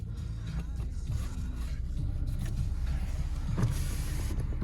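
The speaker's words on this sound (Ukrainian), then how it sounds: "Склопідйомники працюють" A Skoda Octavia Tour's electric window motor whirs steadily for several seconds, a continuous close hum with slight scraping, no talk.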